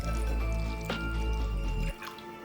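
Milk pours steadily into pancake batter in a bowl, a continuous liquid stream heard close up for about two seconds before it stops.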